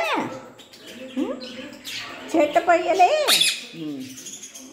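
A peacock gives loud, harsh squawking calls close by in a home setting, mixed with chirps and rising wails, while a person talks over and between the calls.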